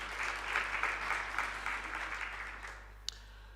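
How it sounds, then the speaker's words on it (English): Steady applause from a crowd, a dense wash of many hands clapping together, continuing evenly before a single sharp click near the end. "if you can just give a round of applause to her also."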